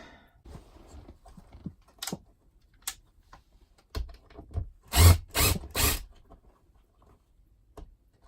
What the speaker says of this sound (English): But I'm gonna unscrew these completely from the wall and then get the valance back on.